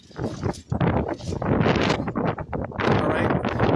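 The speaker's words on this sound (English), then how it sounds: "Strong wind." Strong gusts of wind buffet the microphone outdoors among swaying tree branches, a loud, continuous rough roar that surges and dips.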